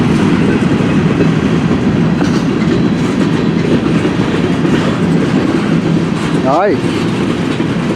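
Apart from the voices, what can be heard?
CN M384 eastbound train passing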